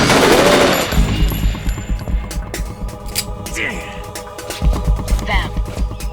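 Rapid automatic gunfire bursts in the Metal Gear Solid 2 video game, loud and sustained over a dense game soundtrack, with a brief pause before the firing picks up again near the end.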